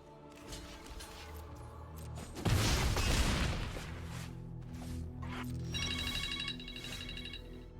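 A ringing phone: a bright trilling electronic tone repeating in quick pulses near the end, heard over game music and a loud booming effect, without talk.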